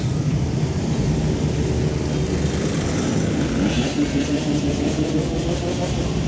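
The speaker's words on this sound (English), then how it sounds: "Different ones revving their engines as they come round the corner there" Motorcycle engines drone continuously nearby at a bikers' toy run in Stoke-on-Trent, a dense, steady rumble of several bikes revving together as they round a corner, with no pauses.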